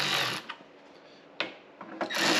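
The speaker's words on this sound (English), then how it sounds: "We're going to try the brand new Ryobi 3/8 or electric ratchet" A Ryobi 3/8 electric ratchet runs wheel nuts onto a Jeep in short quiet buzzing bursts separated by brief pauses, fairly faint and close.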